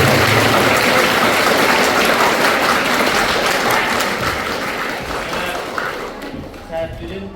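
An audience at a school event breaks into sustained loud applause, with dense clapping that slowly fades toward the end.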